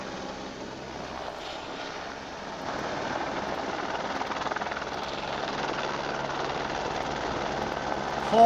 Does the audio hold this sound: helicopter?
yes